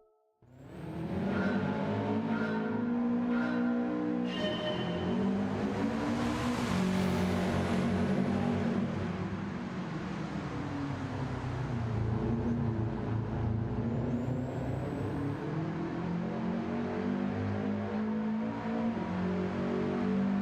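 Gran Turismo 7 race replay with a car engine droning steadily throughout, its pitch rising and falling as it shifts through gears and revs, loud and continuous with no talk.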